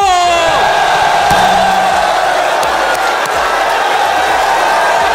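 A large crowd yells together in one loud burst, which settles into a sustained roar of many voices.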